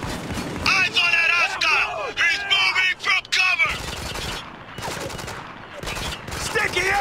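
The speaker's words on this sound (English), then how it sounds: "Pay attention to that shotgun!" Shotgun blasts and other gunfire ring out in a Spec Ops: The Line combat scene, loud and close. Voices talk over the shooting during the first half, and quieter battle noise continues afterward.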